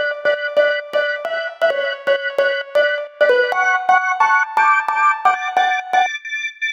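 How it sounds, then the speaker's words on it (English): A future garage synth lead with chorus and delay, chopped into short rhythmic stabs by a sidechained gate, playing a bright melodic line loud and alone with no talking. "we are actually sidechaining this with a gate to the lead"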